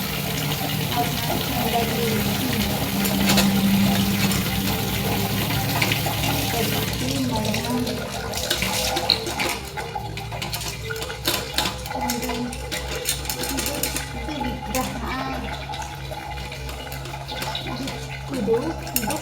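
Steady running water pours while brass deity idols are bathed during home shrine cleaning before a Friday Lakshmi puja, a continuous splashing wash that eases and turns patchier partway through, with faint low voices beneath.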